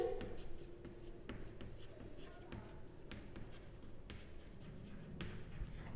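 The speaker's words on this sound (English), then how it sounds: "so just I am writing here financial" Pen on paper as financial expenses are written by hand during an accountancy class, a steady soft scratching with occasional sharper taps under a low background murmur.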